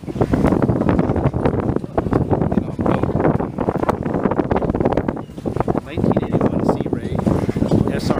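Wind buffets the microphone aboard a 1981 Sea Ray SR200 boat on a breezy, choppy lake, a loud, steady rushing roar with gusty swells and no pauses for the whole stretch.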